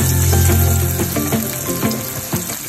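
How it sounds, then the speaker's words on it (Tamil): Pieces of arbi (taro root) fry in hot oil in a kadai, giving a loud, bubbling sizzle that slowly settles, with background music playing beneath. "இப்போ வந்து நம்ம சேப்பங்கிழங்க ஃப்ரை பண்ணிடலாம்."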